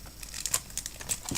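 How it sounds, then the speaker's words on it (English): Plastic wrapping crinkles and rustles in quick, uneven bursts, close and fairly soft, as a Singapore Airlines Boeing 777-300ER model plane is taken out of its packaging. "Take it out of the plastic."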